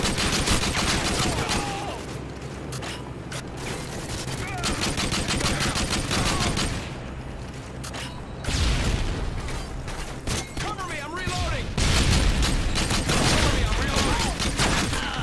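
Rapid FAL rifle fire and other weapons crackle in Modern Warfare 2, with dense bursts of gunshots running nearly nonstop at close range and loud, broken only by short gaps.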